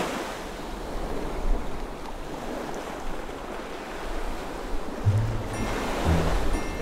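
Ocean water in the Creativerse game rushes and washes steadily like surf as a character swims, with a constant broad wash and a few soft swells and no talking.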